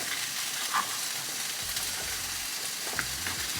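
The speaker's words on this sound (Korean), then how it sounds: "문어를 좀 부어줄게요." Octopus pieces sizzling and frying steadily in a hot pan, a continuous crackling hiss with a few brighter pops, no talking.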